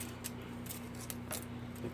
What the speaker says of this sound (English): So I'm just taking a pair of kitchen shears or scissors or whatever and just cutting